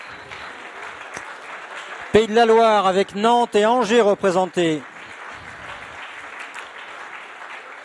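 Clapping from an audience at a sports event presentation, a low continuous patter of applause running throughout, with someone speaking loudly over it in the middle.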